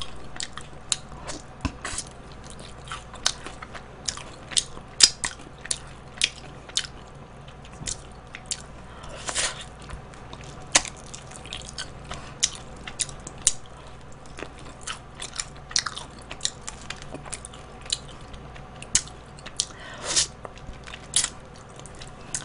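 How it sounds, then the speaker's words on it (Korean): Crispy fried chicken being bitten and chewed up close, with repeated sharp crunches and crackles scattered irregularly over a quiet background, no talking. "바삭하면 깨물어 먹어요."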